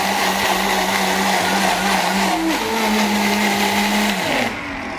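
A blender crushes ice with strawberry milk for a 16–22 ounce milkshake, its motor whirring loudly and steadily and its pitch shifting slightly before it cuts off near the end.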